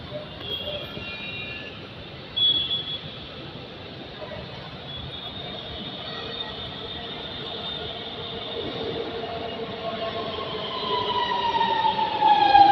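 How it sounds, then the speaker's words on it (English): A Namo Bharat rapid rail train, built by Alstom and running on the Delhi–Meerut regional line, approaches with a broad rumbling roar that grows steadily louder toward the end, along with a faint higher whine. "You can see one another metro or rapid rail is coming"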